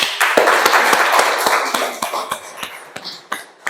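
A small group of students claps in a classroom, a dense patter of hand claps that thins into scattered, uneven claps toward the end, fairly close and lively.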